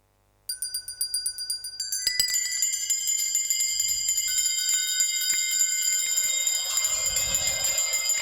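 Several bells start ringing, first a single bright chime, then many bells clanging together loudly and continuously, with low thumps underneath.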